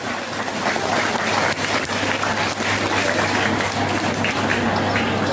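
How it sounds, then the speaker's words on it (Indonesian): Steady applause from an audience at a school year-end report card ceremony with sports and arts prize giving, a dense continuous patter of clapping filling the room at constant loudness over a low hum. "Tepuk tanganlah dulu, semangat kali saya ini."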